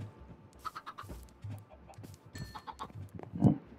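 Chickens in the video game Minecraft cluck in short, scattered bursts, a few soft calls close by over faint background noise, ending in one louder cluck.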